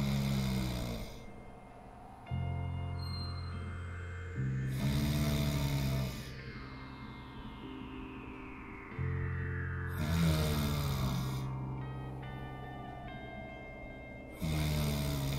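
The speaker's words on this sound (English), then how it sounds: "Is your husband snoring getting on your nerves?" A man snoring: loud, rasping snores that repeat roughly every four to five seconds, with sustained tonal music playing underneath.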